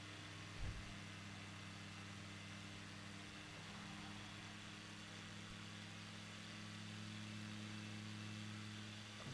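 Simulated aircraft engines throttled down in Microsoft Flight Simulator 2020 hold a steady low drone with a constant hum throughout, moderately loud and without speech.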